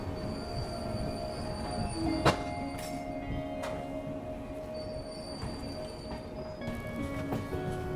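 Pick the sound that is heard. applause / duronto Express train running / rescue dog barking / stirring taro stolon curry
duronto Express train running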